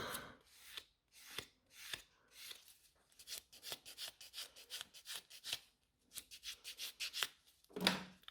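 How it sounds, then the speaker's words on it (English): A nail buffer worked quickly across a natural fingernail in short repeated strokes, each a close, dry scratchy rasp, with brief pauses between bursts and no talk. "Buff quickly this one."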